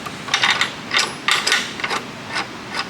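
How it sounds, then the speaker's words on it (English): Vise being clamped on a steel mitering chop saw, a quick run of metallic ratcheting clicks in short bursts, close and clear with no talking. "Let go of that button, and then you can finish clamping."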